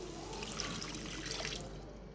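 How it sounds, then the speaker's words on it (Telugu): Water is poured from a glass into a pot of tomato curry for tomato rice, a soft, close, continuous splashing trickle lasting about two seconds. "ఇప్పుడు నేను అందులో వాటర్ యాడ్ చేస్తున్నాను."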